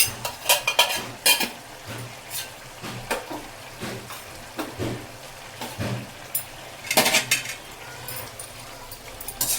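Masala being stirred in a pot: repeated scraping and clattering strokes of a spoon against metal in uneven bursts, close and fairly loud over a low simmer.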